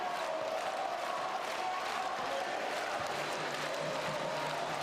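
Crowd in an indoor arena singing during a women's Indoor Hockey World Cup semi-final between Belarus and Germany, a steady, distant-sounding mass of voices with sustained sung tones filling the hall throughout.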